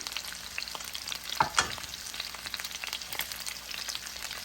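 Pork baby back ribs sizzle and crackle steadily while browning in a hot pan, with a couple of louder pops and spatters partway through.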